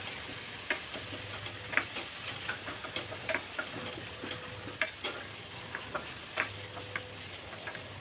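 Crushed garlic cloves and a large piece of ginger sizzle steadily in a hot pan for a chicken dish, with frequent scraping, clinking stirs of a spoon against the metal in an irregular rhythm, close by and without talk.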